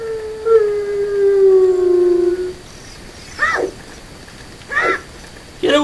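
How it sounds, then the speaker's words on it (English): A long sustained howl rises and falls, then fades, followed by two or three short yelping barks from the dogs of Zelda: Ocarina of Time, each burst separated by quiet gaps. "Get away from me, you filthy dogs!"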